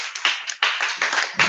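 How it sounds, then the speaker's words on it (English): An audience claps in short uneven bursts to welcome a keynote speaker at a mentorship programme event, the claps close and crisp with brief pauses between clusters. "With a clapping ovation, I want us to welcome the keynote speaker"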